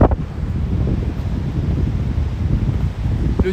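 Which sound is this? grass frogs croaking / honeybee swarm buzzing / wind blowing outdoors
wind blowing outdoors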